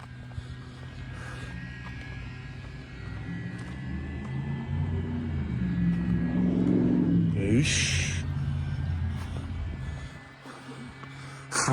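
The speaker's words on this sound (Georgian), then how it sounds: "Ford Bronco გაიარა. Ford მანქანამ გაიარა. ბღუილით." A Ford Bronco pickup roars past on a street, its engine rumble swelling as it nears, peaking close by, then fading away over steady background traffic noise.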